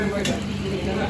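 Boneless chicken and potato sizzling in oil at a Kumbalangi street food stall, a steady close frying hiss with faint stirring and clatter over the short stretch.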